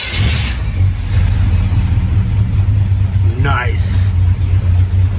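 A Pontiac Firebird that had sat since 1995 runs with a steady low engine rumble close by, with a single brief spoken word over it.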